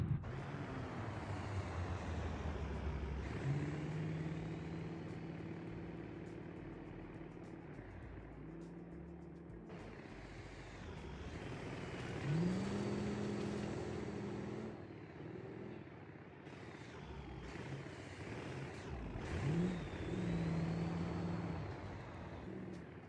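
A 2010 Ford F-350 on new wheels is driven off-road in BeamNG.drive. The engine revs in repeated rising sweeps broken by gear shifts, loud and continuous over about twenty seconds, with no voices.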